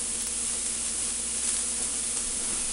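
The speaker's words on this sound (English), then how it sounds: "take your pound of ground beef, break it up into the frying pan" Pound of ground beef sizzling in a frying pan on medium heat, a steady dense hiss and crackle that stays even and fairly loud throughout with no talk.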